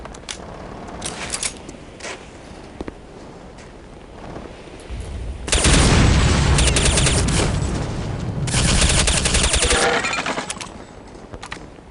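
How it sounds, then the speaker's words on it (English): Heavy machine gun fire in Counter-Strike: Condition Zero Deleted Scenes, with scattered single shots at first, then two long, loud bursts of rapid automatic fire with booming impacts, the second burst following a brief lull. "I'm pretty sure their leader's got a heavy machine gun, and it's pretty powerful."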